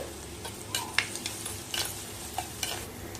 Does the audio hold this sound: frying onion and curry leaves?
yes